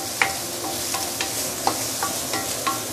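Oil flavored with ginger sizzles steadily in a hot pan with king oyster mushrooms, a continuous close frying hiss with occasional stirring clicks and pops.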